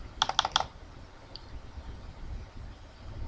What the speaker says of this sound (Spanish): Estoy haciendo clic mientras mantengo el control aplastado.